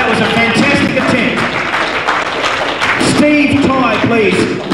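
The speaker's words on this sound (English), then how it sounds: "Let's give him a great round of applause, ladies and gentlemen." Audience applause after a squat attempt at a national powerlifting meet: dense, steady clapping filling the hall throughout, with a voice talking over it.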